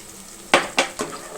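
Ground spice powder dropped into hot oil with curry leaves for Andhra-style mutton keema fry, giving three quick, close scraping stirs with a brief sizzle after each, in a quiet kitchen with no one talking.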